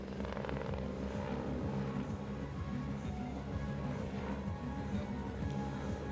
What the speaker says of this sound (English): the 2 Augusta 109 are now conducting battle damage assessment